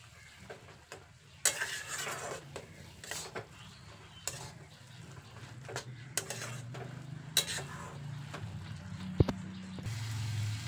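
Sesame seeds stirred into hopa in a pan, a steady scraping and shuffling that comes in repeated strokes over a soft, continuous sizzle, close and fairly quiet, with occasional sharper clinks of the utensil against the pan.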